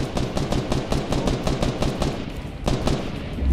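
Rapid, steady automatic gunfire in Fortnite Battle Royale, loud and close, with shots evenly spaced in a continuous rhythm and a short pause near the end before firing resumes.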